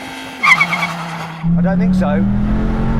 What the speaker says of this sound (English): I just dumped the clutch, did what it said.